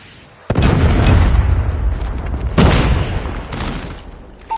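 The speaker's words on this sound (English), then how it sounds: "Predator missile inbound." A Predator missile strike in Call of Duty Mobile, heard as a sudden heavy boom with a rumbling tail, then a second deep blast about two seconds later, both loud and close.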